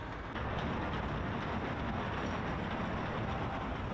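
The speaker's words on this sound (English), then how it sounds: "As the train begins to move, Tuli's face lights up with pure happiness." A train rumbles and rattles steadily with a broad, continuous roar that swells slightly at the start, heard from inside a carriage.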